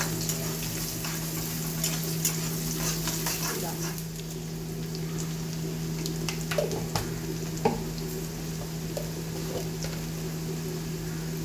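Onion, crushed garlic and green chili fry in a pan, a soft, steady sizzling hiss with occasional small clicks from the utensil, partly covered by a constant low hum.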